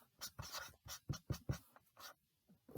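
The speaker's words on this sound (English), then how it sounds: "So first, I'll just write this down." Pen or pencil moving across paper: a short run of close, scratchy strokes in uneven bursts, quiet, with no voice over it.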